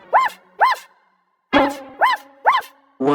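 A dog barks six times in two clusters, sharp and close, with a short pause between the groups.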